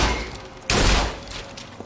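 Gunfire erupts in Bioshock Infinite's Rapture DLC as a loud, close burst of shots, then decays into a noisy game-world rumble.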